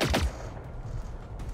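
A burst of gunfire in the video game Generation Zero: a loud, close volley of shots at the very start, then a fading, echoing tail with scattered fainter reports.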